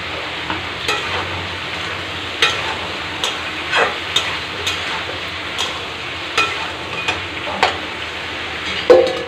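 Spices fry in a pan, giving a steady close sizzle throughout, broken by regular scraping clicks of stirring and a louder clatter near the end, with no talking.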